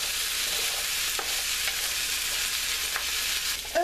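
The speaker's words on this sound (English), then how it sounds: "by the time we're done frying these potatoes" Potatoes fry in a pan with carne asada seasoning, giving a steady, loud hiss of sizzling oil with a few light clicks of stirring, and no talking.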